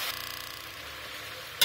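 Potatoes frying in hot oil for South Indian tadka aloo, a steady soft sizzle with faint stirring, ending in a brief louder scrape.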